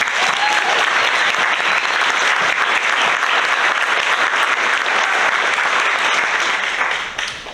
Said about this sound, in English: So can we please give a round of applause for the arts organization.